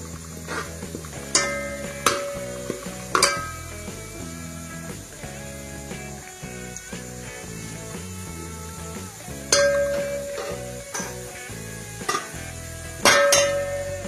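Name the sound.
water added to pan of browned onions, sizzling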